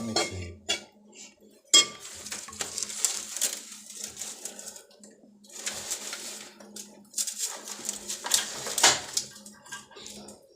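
A spoon scrapes and clinks against a pot while cooked beef is stirred into masala, in irregular bursts of metallic stirring with quiet gaps between, fairly close and unaccompanied by talk.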